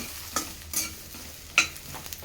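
Food sizzles quietly in a pan with a steady low frying hiss, broken by a few sharp metallic clinks of a spoon stirring against the pan; no talking.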